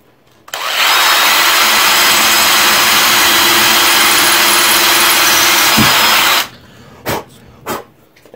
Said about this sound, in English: I marked the center here.